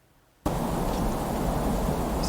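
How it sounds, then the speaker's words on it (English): Warm static sleep sound from Bose Sleepbuds II cuts in abruptly after a near-silent moment, then holds as a dense, steady, full-bodied hiss. "Warm static."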